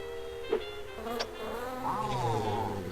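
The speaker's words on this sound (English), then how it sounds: "Pesky bee." A bee buzzes in the Wallace and Gromit video game, a short wavering drone that rises and bends in pitch, with brief clicks and no voices.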